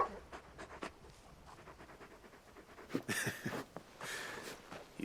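Torgal, the large dog from Final Fantasy XVI, pants softly in quick, breathy bursts, close and quiet, with some snorting and movement noises and a louder huffing stretch near the end.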